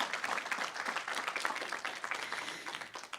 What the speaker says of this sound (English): can we give Karen a big round of applause?